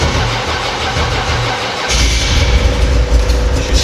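A car engine cranks over on a cold day and catches partway through, then settles into a low, steady idle, close and loud, with no talking.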